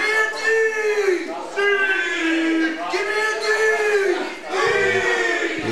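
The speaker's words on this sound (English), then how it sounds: "The crowd starts to come alive." Crowd at an RWA independent wrestling show in 2011 roars and cheers loudly and steadily, with sustained yells and whoops swelling in waves and a brief dip near the end.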